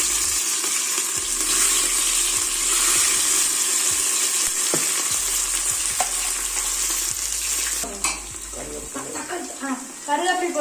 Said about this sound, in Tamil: அடுத்தது ஆனியன் போட்டுக்கலாம்.